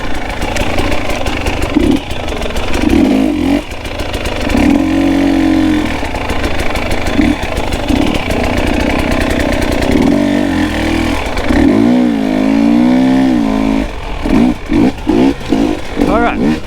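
A KTM 300 XC two-stroke dirt bike in the woods, its engine revving loud and close in repeated throttle bursts with rising, falling pitch sweeps, a rider's voice talking over it at times.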